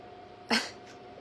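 A pet cat gives a single short, breathy vocal burst, close and moderately loud, with a faint trailing sound after it in an otherwise quiet indoor room.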